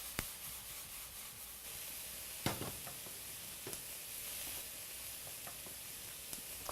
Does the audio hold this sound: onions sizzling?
yes